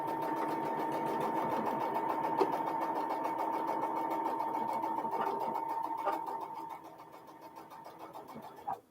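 A sewing machine hums steadily up close as a quilt four-patch laid on a long border strip is fed through, with continuous stitching that slows and stops near the end.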